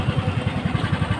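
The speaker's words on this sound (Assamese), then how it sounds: "অটোত উঠি ল'লোঁ" An auto rickshaw engine running close by, a rapid, even puttering chug at steady loudness with a rattly mechanical edge.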